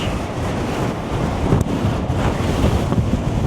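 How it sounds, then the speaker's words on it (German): Stormy wind on the coast near Cartagena buffets a microphone held under a shirt, making a loud, continuous low roar and rumble with no voices. "Aber hier ist es ziemlich stürmisch."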